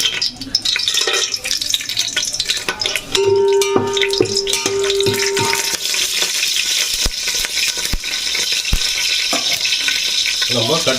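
Steady hiss of spices sizzling in 3-4 tablespoons of oil with scattered metallic clinks and taps from stirring, plus a brief tonal ring partway through.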